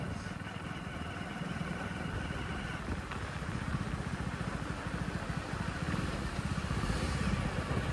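A motorbike ridden along a shortcut at night, its engine a steady mid-pitched drone with a rattling clatter throughout, constant and close, growing slightly louder toward the end.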